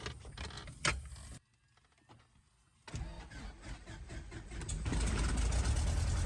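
A small airplane's propeller engine starting up after a pause: a brief whir and cough, then the engine catches and settles into a loud, steady running roar close by.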